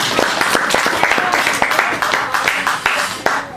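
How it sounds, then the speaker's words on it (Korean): A church congregation applauds with a run of sharp, fairly close handclaps in a brisk, uneven rhythm, lasting a few seconds. "박수 쳐야 돼요"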